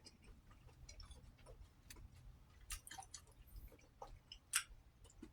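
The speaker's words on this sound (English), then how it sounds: "You gotta chew it real long." Chewing of tough, fibrous, spicy food, close and quiet, with irregular wet clicks and squishes of the mouth working slowly over several seconds, no talking.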